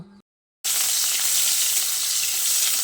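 Pieces of bitter gourd frying in hot oil for shukto: after a short silent gap, a loud, steady, close sizzling hiss starts suddenly and holds to the end, with no speech.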